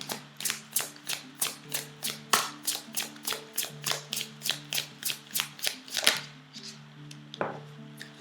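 Oracle cards are shuffled and drawn by hand during a rice oracle reading: about twenty crisp, evenly spaced card slaps at roughly three per second, then a pause and a few softer handling sounds close by.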